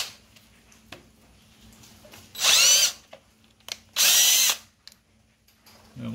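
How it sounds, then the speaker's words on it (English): A power drill whirs into the metal of a 1950 Farmall Cub tractor's identification plate in two short high-pitched bursts, each about half a second, separated by quiet pauses with faint clicks, the bit not staying put. "I can't get my drill bit to stay."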